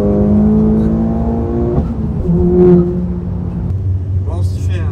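A VW Golf 6 GTI Stage 2 engine drones and then picks up as throttle is reapplied, revs shifting under a person talking inside the car.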